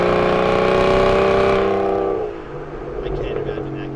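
A 2015 Aston Martin Vanquish engine revving loudly near the car, then dropping off as it downshifts into a rougher, crackling exhaust burble.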